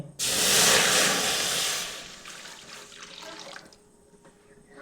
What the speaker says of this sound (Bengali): 1 লিটার জল দিয়ে দিলাম।